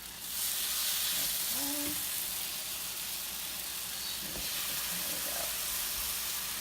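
French toast bread frying in a pan for a vegan recipe, with a soft steady sizzle under occasional light kitchen clatter and a brief spoken word.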